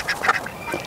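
Runner ducks kept in a home garden give a quick burst of several close, nasal quacks in under a second, loud and clear with no voices.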